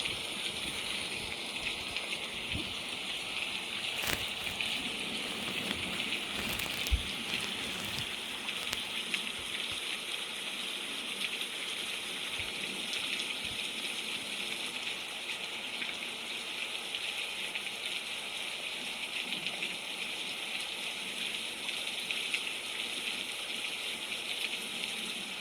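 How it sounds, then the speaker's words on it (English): Steady rain on a very rainy day, a constant dense hiss of falling water with occasional nearby drips and patters, no voices, holding evenly throughout. "I was just listening to the rain"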